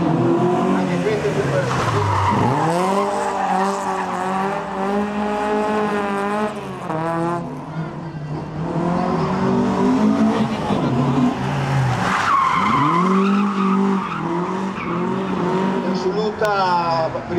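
A Fiat 131 Abarth race car at a motor event, its engine loud and close, rising and falling through gear changes with revving and brief tire squeal, while an announcer talks over it.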